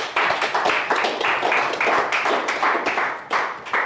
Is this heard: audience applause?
yes